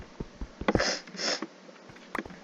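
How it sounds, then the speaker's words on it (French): Several short, sharp sniffs through the nose, a couple of longer breathy inhales among them, close and fairly quiet with no talking. "Désolée si je renifle de temps à autre."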